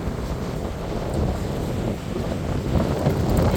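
Strong wind buffeting the microphone on an island coast, with high waves surging in a steady, loud roar and no speech.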